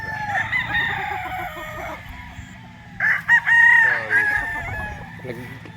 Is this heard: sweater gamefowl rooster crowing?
yes